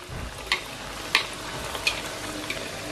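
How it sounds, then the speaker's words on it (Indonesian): Vegetable fritters (bakwan) frying in hot oil over a low flame, giving a steady soft sizzle with a few sharper crackles and pops spaced through it, close by and fairly quiet. "Kita goreng deh sampai matang."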